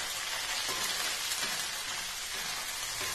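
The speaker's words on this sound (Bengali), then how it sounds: "ক্যাপসিকামটা দিয়ে দিলাম, তার সাথে টমেটো কুচিটাও দিয়ে দিচ্ছি। এবারে এটাকে ভালো করে ভেজে নেব।" Capsicum and chopped tomato frying in a pan give off a steady, dense sizzle with faint stirring scrapes, close and continuous, with no voices.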